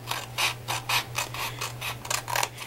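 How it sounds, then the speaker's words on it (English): Scissors cut the excess paper off an envelope along its score line, making a series of close, crisp snipping and rustling strokes in a fairly even rhythm over a low steady hum. "cut where the score line is, and cut this excess off right here"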